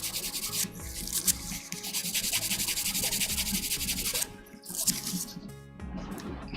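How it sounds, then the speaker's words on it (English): A Gunpla plastic model part being sanded by hand with worn 2000 grit sandpaper, a close, steady back-and-forth rasping scrape that continues with brief pauses, no talking. "I feel this 2000 grit sandpaper losing power."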